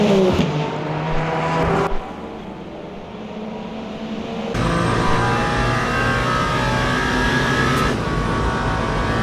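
Race car engine on a lap at Circuit de la Sarthe in the video game Le Mans Ultimate, a sustained loud drone with a gear shift break, then climbing revs holding high and steady.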